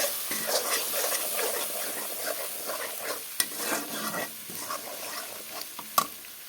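Spice paste with turmeric being stirred and sautéed in a pan for a ridge gourd, potato and fish dish: a steady soft sizzle with repeated scraping strokes of a spoon, fairly close, no voices.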